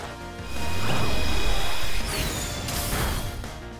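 Flash Cannon attack in Pokémon Scarlet: a loud crashing blast swells in, holds as a bright metallic roar with rising whooshing tones, then eases into a softer sustained rumble.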